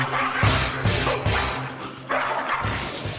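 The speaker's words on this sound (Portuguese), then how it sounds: "Detalhe pro irmão de menor porte do Evair, o cachorro, que se chama simplesmente Valdívia." A small dog called Valdívia barks in a quick run of sharp, loud yips and woofs, close by, with several barks in about three seconds.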